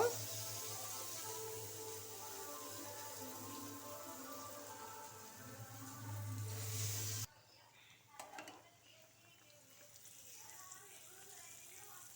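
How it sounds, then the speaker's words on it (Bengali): Banana flower chops fry in hot mustard oil in a small pan, a soft steady sizzle that swells and then drops off abruptly partway through, followed by quieter bubbling and faint clatter, with a voice talking over it. "তেল হয়ে গেছে এবার আমি একটা একটা করে চপ ভেজে নেব"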